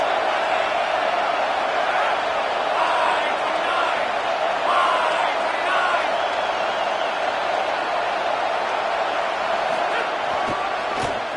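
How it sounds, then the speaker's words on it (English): Steady stadium crowd roar from a college football video game, a continuous loud hum of massed voices lasting throughout, with a few faint thuds near the end. "This crowd trying to make life miserable for this offense."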